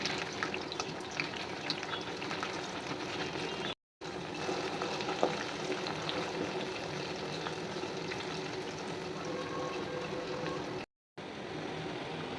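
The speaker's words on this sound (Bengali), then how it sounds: "তেল গরম হয়েছে, এখন একে একে করে রোলগুলো দিয়ে দিবে।" Spring rolls fry in hot oil in a pot, a steady dense bubbling sizzle held at an even level throughout, broken by two brief silent gaps.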